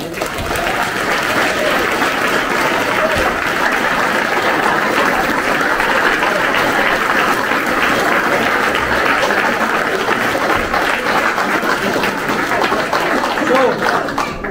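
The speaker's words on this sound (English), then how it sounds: "So a big round of applause for them guys." Sustained, loud crowd applause for the Jericho volunteers at a wrap-up gathering, a dense continuous roar of clapping lasting throughout, with some voices mixed in.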